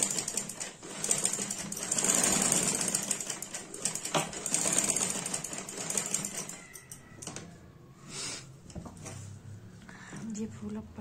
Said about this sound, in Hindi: चारों तरफ से इसमें सिलाई लगा लेंगे तो ये हमारी उखड़ेगी नहीं।